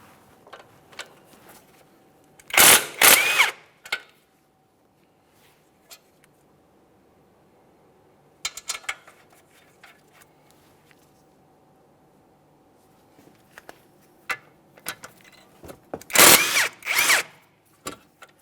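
Power tool spinning out 17mm caliper bracket bolts on a 2008-2017 Mitsubishi Lancer front hub: two loud buzzing bursts near the start and end, a shorter one midway, with faint clinks and handling noise between.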